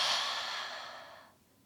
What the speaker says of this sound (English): We're going to add that breathing as we exhale back.